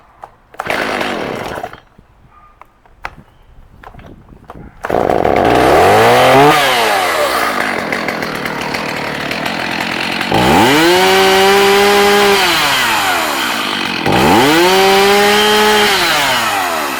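A Stihl MS 290 chainsaw with a 16-inch bar and chain is pull-started after a few rough tugs, then runs loud and close, idling between repeated throttle revs that rise and fall.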